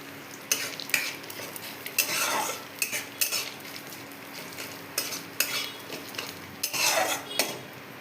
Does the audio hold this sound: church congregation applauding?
no